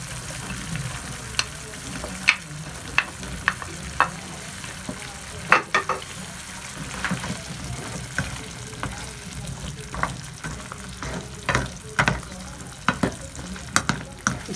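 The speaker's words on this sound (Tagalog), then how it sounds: "Simmer lang natin ang string beans together with beef." String beans and beef simmering in a pan give a steady soft bubbling sizzle, broken by frequent sharp clicks and taps of a utensil stirring, close and moderately loud with no voices.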